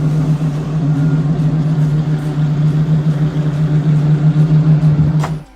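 A Pagani's exhaust produces a loud, steady low drone that holds for about five seconds before ending in a brief knock.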